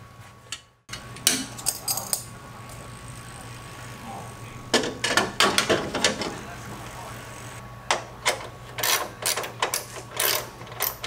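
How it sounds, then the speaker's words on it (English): Stock bolts go into a Bushwacker aluminum front fender on a Jeep JK, giving clicky metallic ratcheting and rattling in short bursts, fairly close, with a quieter stretch in the middle. "So I'm gonna get those bolts and put them in."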